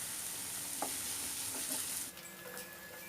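Onions sautéing in a pan with a pinch of salt for dry fish kulambu, a steady soft sizzle with a few faint stirring scrapes, fairly quiet and with no voices.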